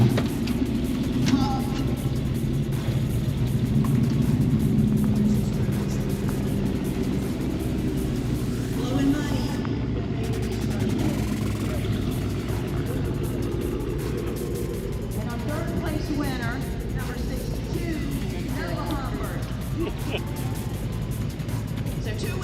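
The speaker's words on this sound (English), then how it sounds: "He's coming, right there. Modified truck, second place, number 74, Brian Huck." At an outdoor car show, a modified truck rolls past with a steady, rumbling engine drone that swells and fades over about twenty seconds, while an announcer talks over it throughout.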